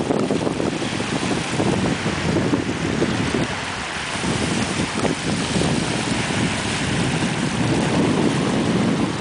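Pacific Ocean waves break at a beach in Okinawa, Japan, a continuous broad roar of small surf mixed with heavy wind buffeting the microphone. No one speaks.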